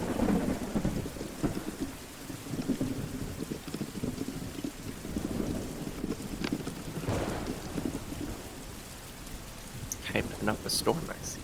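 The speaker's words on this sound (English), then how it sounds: "I really like the rain effects that are playing in the D&D." Steady rain and rolling thunder play as a storm ambience during a tabletop Dungeons & Dragons session, with low rumbles swelling and fading under a constant patter and quiet voices chatting over it.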